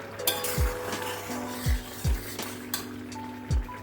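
A metal lid is lifted off a pot of shol fish curry with bottle gourd as it comes to a boil. Several sharp clanks and clinks ring out over a soft, steady bubbling.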